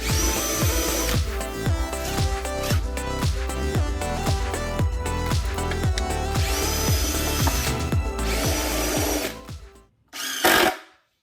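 A power drill drives screws into a wooden circular saw cross-cutting jig, its motor whirring loud and steady with rhythmic pulsing for several seconds before cutting out, followed by one short final burst.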